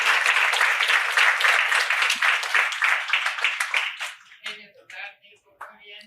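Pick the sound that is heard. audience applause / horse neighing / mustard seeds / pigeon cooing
audience applause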